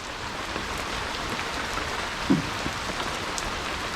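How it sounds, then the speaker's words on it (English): Rain falling steadily on trees and ground outdoors on a fishing outing, a constant broadband hiss with a single brief louder drop or knock partway through, no voices. "Well, we in the rain now"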